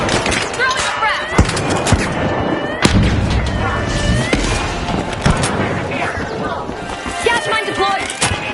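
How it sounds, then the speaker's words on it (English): Frag grenade and gunfire in the video game Riot: dense crackling shots and bursts over several seconds amid shouted voices and running, with scattered loud impacts throughout. "Throwing a frag!"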